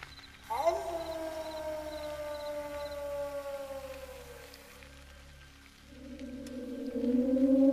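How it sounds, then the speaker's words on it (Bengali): Cartoon sound effect of a jackal howling in the distance on a foggy night, with long, wavering, siren-like howls that slide downward and then rise again over a low steady rumble. "দূরে কোথাও শিয়ালের ডাক ভেসে আসছে"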